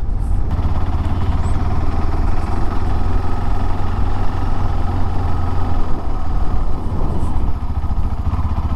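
A new motorcycle in Germany being ridden, its engine a loud steady drone with constant road and wind rumble throughout and no talking.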